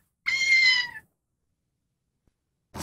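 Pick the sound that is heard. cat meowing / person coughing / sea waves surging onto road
cat meowing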